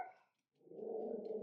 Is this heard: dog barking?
yes